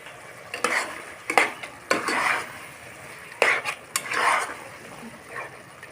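A spatula stirs fish head and ash gourd curry in a pan on high heat, making repeated scraping strokes against the metal over a soft sizzle, with about seven distinct stirring bursts close by.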